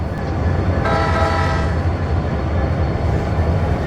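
A train rolls in at an interchange siding with a steady heavy rumble of wheels and cars, while a brief horn-like tone sounds over the continuous low roar.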